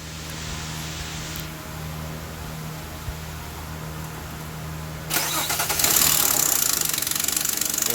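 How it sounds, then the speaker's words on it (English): A Nissan Maxima with a newly replaced camshaft position sensor, first a low steady hum, then the engine cranks and catches about five seconds in, settling into a loud, close, even idle. "And then we're going to start it up."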